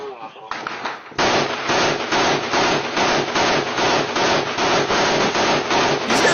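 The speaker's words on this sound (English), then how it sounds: "here's the firefight going on outside, right through the opening in the wall" Sustained rapid gunfire in a firefight during the war in Ukraine, heard through an opening in a wall: after a brief lead-in, loud close bursts crack in a steady, evenly spaced rhythm that keeps going to the end.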